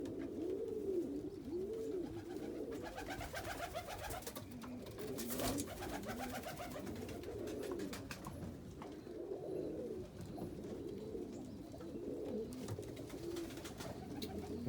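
Several pigeons coo steadily in a breeding loft of crested and black laced birds, their repeated rolling calls overlapping at close range against a constant background hum, with no speech.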